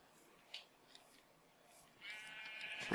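Minecraft sheep bleating, a few faint short blips followed by a louder drawn-out bleat near the end, with quiet background otherwise.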